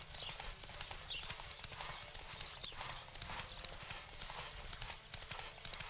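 Horse galloping in The Witcher 3, a steady rapid clip-clop of hooves carrying through the whole stretch over continuous game ambience, with no voices.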